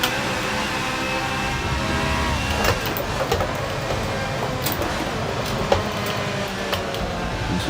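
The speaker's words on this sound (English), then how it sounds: "driving this car right on the ragged edge as much as we can" A Ferrari race car driven hard around the Laguna Seca circuit, its engine a continuous loud drone with shifting pitch, joined by scattered clicks and rattles over a steady roar.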